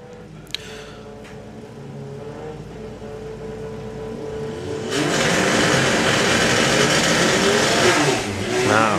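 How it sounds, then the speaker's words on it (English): A rear-wheel-drive Porsche 944 with a 20-valve turbo and an air-cooled VW Beetle at a Santa Pod Raceway drag strip, engines idling and revving, then surging to a loud, sustained roar of hard acceleration off the line. "Now we've got a rear-wheel drive Porsche 944 with a 20 valve turbo up front"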